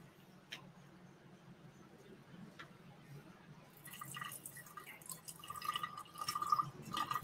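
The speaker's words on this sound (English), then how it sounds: "So, now you add water." Water is added to a sourdough starter, starting as faint, sparse drips and building into a steadier, nearby trickling pour over the last few seconds.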